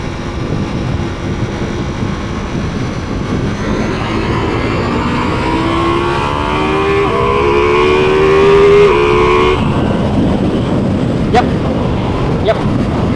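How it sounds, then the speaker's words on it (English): A Ducati Multistrada motorcycle accelerates hard in touring mode, its engine note climbing steadily in pitch through the gears with a loud, continuous rising whine over wind rush, then dropping back at a shift. "Yep, that's a fast bike. That's a very, very, very, very, very, very fast bike."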